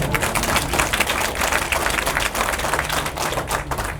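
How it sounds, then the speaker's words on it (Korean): A hall full of constituents applauds at a lawmaker's legislative report meeting, with dense, loud and sustained clapping that holds steady from start to finish. "이거는 박수 치셔도 됩니다"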